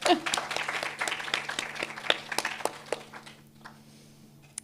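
A conference audience applauds, a dense burst of many hands clapping that thins out and fades to near silence by the end, with a low steady hum from the room's sound system underneath.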